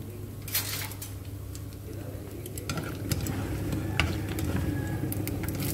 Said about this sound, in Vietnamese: Mình vắt cho ráo, mình xé ra rồi bắt đầu chiên nha.